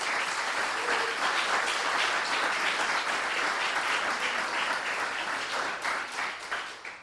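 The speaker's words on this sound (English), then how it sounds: "I would like you now to confer upon Colleen a welcoming round of applause." Steady, dense applause from a conference audience welcoming journalist and author Colleen Ryan at a media talk event, sustained at even loudness for several seconds before thinning slightly at the end.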